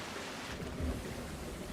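Steady rain with a low rumble of thunder from a stormy scene in the Splatoon 3 video game, a continuous wash of rainfall throughout with a deeper roll building near the middle.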